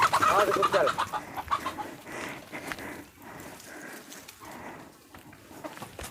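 A rooster crows near the start, then hens cluck and murmur steadily at close range, with some background noise.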